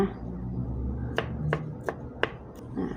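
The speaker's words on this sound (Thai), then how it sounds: "จะใส่ขิงซอย ขิงของเราก็สดสดใหม่ๆเลยนะคะซอยซอยใส่ลงไปเลยนะคะ" A knife slices fresh ginger on a cutting board in four crisp, evenly spaced chops, close and clear over a quiet kitchen background with no talking.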